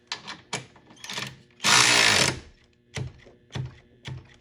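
A Hyper Tough cordless ratchet, a low-cost Walmart tool, runs a bolt down toward tight: one sustained loud buzzing whir of about a second, with short clicks and taps before and after.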